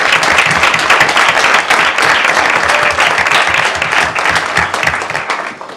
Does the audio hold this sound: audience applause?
yes